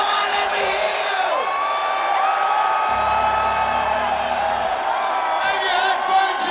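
A concert crowd at a show in Mountain View, California, roars with sustained cheering, whoops and yells, a loud continuous wall of voices with rising shouts throughout.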